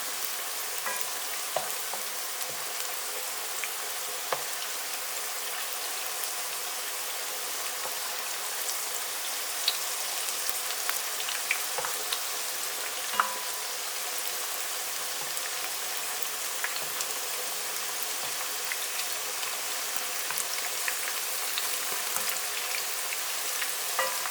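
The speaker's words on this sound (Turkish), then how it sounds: "Patlıcanlar güzel bir şekilde kızardılar. Şöyle bir çevirelim. Diğer tarafları da biraz daha kızarsın." Eggplant slices frying in oil crackle with a dense, even sizzle like steady rain, with faint scattered pops and a few quiet taps as the slices are turned, no voices.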